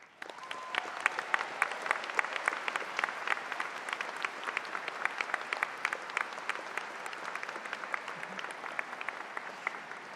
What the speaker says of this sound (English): Please join me in a round of applause for Ms. Beverly O'Connor